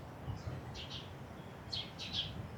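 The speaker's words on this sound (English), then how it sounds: "Spring is here and birds are just so happy" Spring birds chirping outdoors, a few faint high calls in short clusters over a steady soft background hum, distant and quiet.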